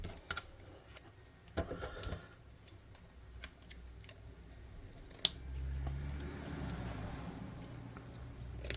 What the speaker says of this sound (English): Those scissors are not cutting shit.